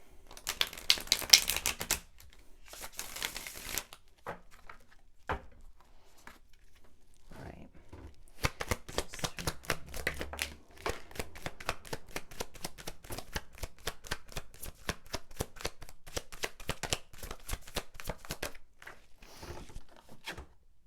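Tarot cards being shuffled by hand as a reading is laid out, giving bursts of rapid crisp riffling and flicking, then a long run of dense, evenly spaced snaps and taps, close and fairly quiet, with no talking.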